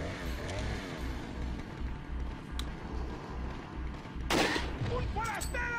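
A rifle fires in the video game Resident Evil 4, one sharp, loud shot cutting through a busy mix of game noise and rumble, with people talking over it.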